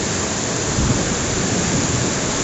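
Heavy storm rain with strong wind in Jessore, a dense, loud, unbroken roar of downpour filling the whole stretch, with no voices heard.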